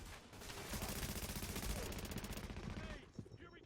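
Automatic weapon fire in The Division video game during a firefight, a dense continuous burst of rapid shots lasting a few seconds, loud and close, with voices calling out over it.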